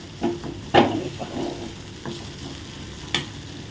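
Rice mixed with a spatula in a pan over low heat for a school lunch dish gives a few irregular scraping strokes, several of them sharp and close, over a faint background sizzle, with no voices.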